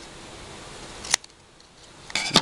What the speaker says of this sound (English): Snip these little bits off there